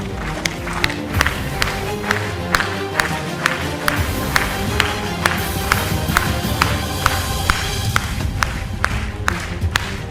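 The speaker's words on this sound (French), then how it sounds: "On peut attaquer à applaudir, oui." An audience at a championship event claps in a regular rhythm, sharp hand claps ticking steadily over a music jingle and crowd murmur.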